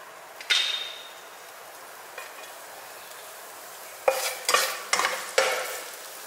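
Garlic frying in hot cooking oil in a frying pan gives a soft sizzle, broken by a sharp metallic clink early on and several quick scraping stirs of a utensil against the pan near the end.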